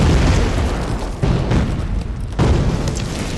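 A heavy artillery shell blast from a WWII war drama, loud and booming, with a sustained rumbling roar that swells again in a second burst, no voices.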